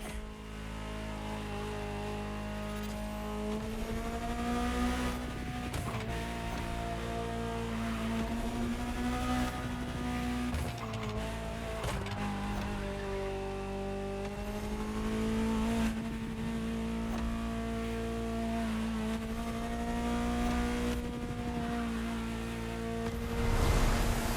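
A Ferrari supercar engine in the video game The Crew Motorfest roars steadily with rising and falling revs and gear shifts, a loud continuous mechanical drone throughout.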